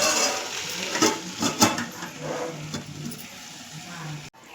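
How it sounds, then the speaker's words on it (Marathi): A metal lid goes onto a pan of amaranth greens being steam-cooked, with a few clanks and scraping knocks over a low sizzle and background hum. "आता आपण झाकण ठेवूया."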